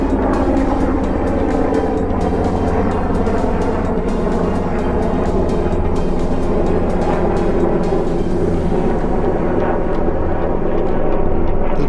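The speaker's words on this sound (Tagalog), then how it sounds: "May helicopter Naka-helicopter." Helicopter flying over a city avenue in winter, a steady rotor and engine drone that stays loud and close throughout, slowly thinning toward the end.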